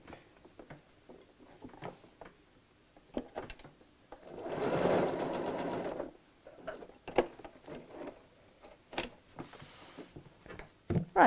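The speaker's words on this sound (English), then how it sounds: "tack that on your machine just over that centre mark" A sewing machine tacks a folded bungee cord in place with a short run of rapid stitching in the middle, surrounded by clicks and handling taps of the machine and fabric.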